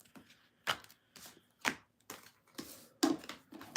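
Tarot cards being shuffled by hand close up: a string of quick, dry papery bursts and soft slaps, each short and separated by brief pauses, with no talking.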